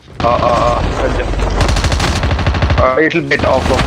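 Rapid automatic gunfire bursts from a competitive battle royale video game pro scrim, loud and continuous with dense repeated shots, a commentator's voice faintly underneath.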